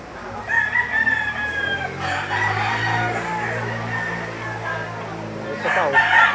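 Roosters crow loudly and close by at a rainy market stall, with several drawn-out calls overlapping and some clucking, while people talk in the background.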